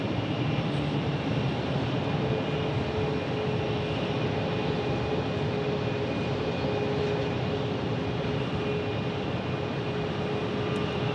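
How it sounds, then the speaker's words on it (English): An Airbus A350 airliner landing at Phoenix Sky Harbor gives a steady, sustained jet engine roar with a constant tonal whine, close and loud throughout with no talking. "this will be the fourth different A350 that I've seen land at Phoenix"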